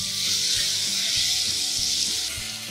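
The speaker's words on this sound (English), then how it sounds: "I also have here some sauteed down tomatoes and pepper, sweet pepper. I'm going to add it there." Sautéed tomatoes and sweet pepper hitting a hot pan, a loud, close, dense sizzle that hisses steadily and eases off slightly toward the end, with no voices over it.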